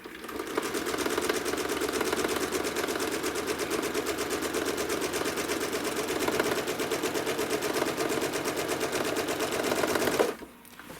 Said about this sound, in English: if I press the reverse button, my back stitch button once, it'll take one stitch in place, and then it'll move forward